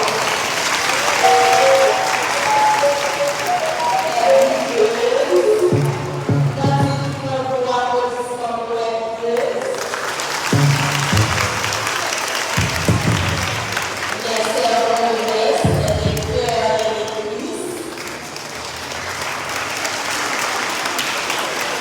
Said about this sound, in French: On les applaudit fortement